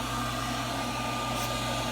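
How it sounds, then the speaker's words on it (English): Blower motor pushing air to keep an inflated commercial aquaponic greenhouse pressurized, a loud steady whooshing motor drone with a constant hum and no variation. "I had 3 of these blower motors."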